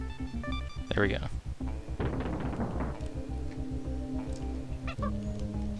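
A bird in the SNES game Donkey Kong Country 3 gives a couple of short, rising honking cries near the start. They sit over steady game music and effects.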